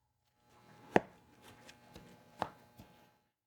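A knife chops chorizo into tiny pieces on a board, two sharp knocks standing out among softer, scattered cutting taps, close and fairly quiet with no talk.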